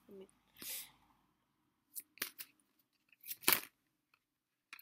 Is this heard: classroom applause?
no